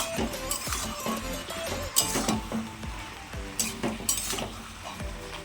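Soft, well-cooked bottle gourd being sautéed in a pan, repeated rhythmic scraping and stirring strokes over a steady sizzle, close and moderately loud, with occasional light clinks.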